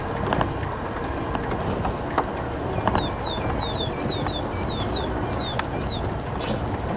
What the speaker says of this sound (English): Something alarm calling here. A couple of birds.